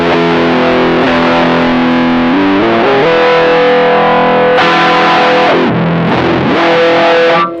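An electric guitar run through a Mooer Pitch Step pedal on its up-shift setting, heavily distorted, with sustained notes sweeping upward in pitch. It is loud and continuous, with no talking.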